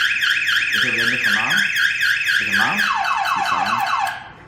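A smart car alarm sounds up close and loud, with a rapid warbling siren whose sweeping tones cycle through several patterns before cutting off at the end.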